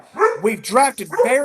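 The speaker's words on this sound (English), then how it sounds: "that was my dog" A dog barks and yips in quick bursts close by, overlapping someone talking during a sports podcast.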